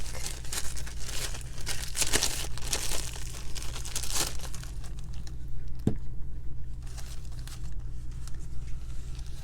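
A piece of plastic is handled and crinkled up close, giving continuous crackling and rustling with a few sharper crinkle bursts over a low steady background hum.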